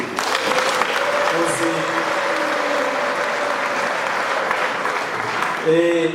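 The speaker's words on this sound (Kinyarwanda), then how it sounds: "muri cyo tuyikomeye amashyi tuyishimire" A church congregation breaks into sustained applause, steady clapping filling the room for several seconds while a voice or sustained tones carry over it.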